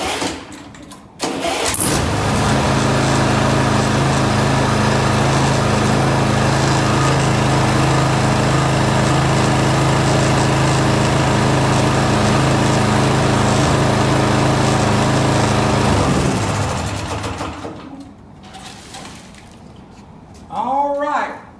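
A small lawn mower engine starts and runs steadily at a loud, even drone for a long stretch, then cuts out, with brief voices afterward.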